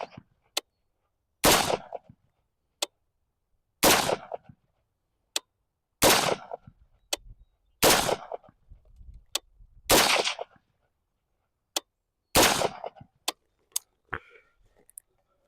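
Rifle shots at an outdoor shooting range, fired in sharp, loud, evenly spaced bursts of single and paired cracks with short echoing tails and silence between them.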